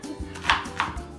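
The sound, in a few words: knife roughly chopping a purple onion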